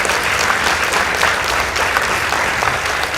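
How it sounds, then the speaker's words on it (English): Audience applause for the winning team at a school debate between Mnara Boys and Meru School, a dense, steady wash of many hands clapping at close range for a few seconds with no talk over it. "Please give them a round of applause."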